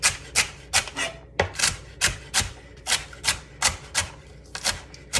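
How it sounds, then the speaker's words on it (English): A knife slices thin Swiss chard stems on a cutting board: a steady run of about a dozen crisp, close cuts in an even rhythm, with no talking. "we're just going to cut these, kind of thinly slice them."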